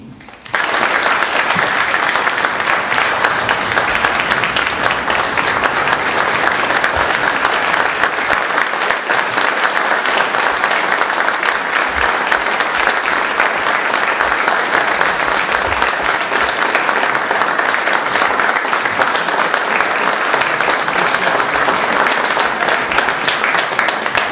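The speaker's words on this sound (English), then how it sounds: "please join me in warmly applauding the 2015 Wilson Chamber of Commerce Distinguished Citizens of the Year, Norval and Susan Keaton" Sustained audience applause for award winners at a chamber of commerce meeting, loud and steady throughout after a brief quieter opening, with no speech over it.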